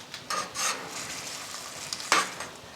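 Stir-fry sauce bubbling and sizzling in a pan on a Cobb cooker, a steady close crackle with scraping stir strokes and a sharper burst near the end, no talking.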